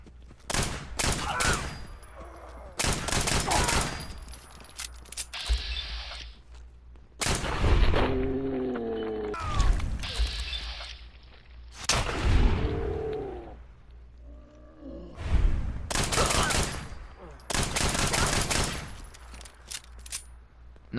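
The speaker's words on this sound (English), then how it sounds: "Now let's test out just the standard classic pistol, the classic 10mm upgraded." Upgraded classic 10mm pistol firing in Fallout 4, sharp close shots in irregular bursts and single reports with echoing tails, alongside in-game effect sounds, no talking.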